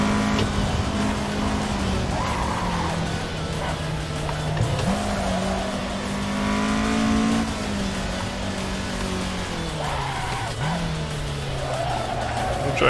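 A Toyota AE86 drifting on a race circuit in the Assetto Corsa game holds a steady engine drone that rises and dips with throttle, over a continuous tire squeal and skid noise, with no one talking.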